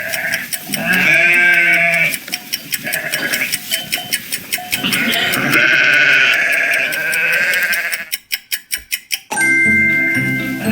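A sheep bleats loudly several times in a row, wavering cries close by, ending with a short burst of clicking.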